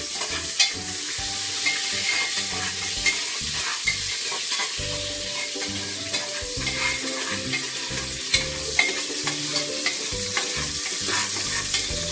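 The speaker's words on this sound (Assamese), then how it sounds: "এতিয়া মই অকণ পিঁয়াজ দি দিম।" Onions sizzle and crackle steadily in a hot pan, with a spoon scraping and stirring now and then and a low hum underneath.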